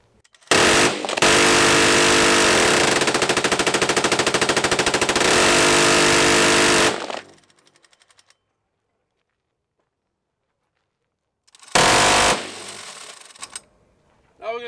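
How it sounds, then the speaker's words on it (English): A machine gun fired at an outdoor range during a firearm demonstration, switching between high and low rates of fire: one long, loud, continuous burst for about six seconds, then silence and a second, shorter burst. "you're now going to see the gun go between the high and low rate and back."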